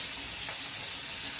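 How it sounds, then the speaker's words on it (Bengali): Tangra fish fry in hot oil in a wok, a steady, fairly quiet hissing sizzle with fine crackling spatter throughout the brief moment. "ট্যাংরা মাছ খুব ফাটে কড়াইতে তেলে।"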